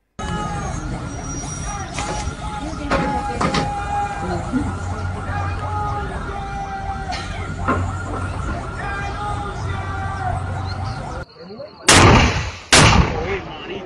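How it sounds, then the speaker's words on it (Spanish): Heavy gunfire with RPG and grenade attacks in a combat scene, a dense continuous roar with sharp bursts and shouting voices throughout, ending in two loud close blasts. "Nos están disparando con RPG, granada, lanza granada francotiradores."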